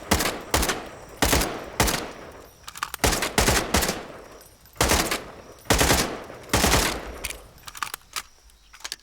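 Rapid bursts of video-game gunfire from the dinosaur shooter Ferocious, loud and close, firing in repeated short volleys separated by brief pauses, with no talking.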